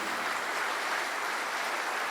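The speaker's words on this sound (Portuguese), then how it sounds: "Quem é católico pode aplaudir?" A congregation at a Catholic sermon applauds, a steady, even wash of many hands clapping with no other sound standing out.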